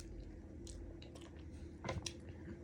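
Someone chews a Hershey's Heath toffee candy bar, with a few faint crunches and squishy bites at close range and a slightly louder crunch near the end, heard alone in a quiet room.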